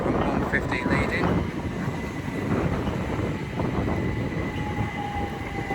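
A Southern Class 377 electric train runs through East Croydon station, its rumbling wheels and motor noise loud and close throughout, with wind buffeting the microphone.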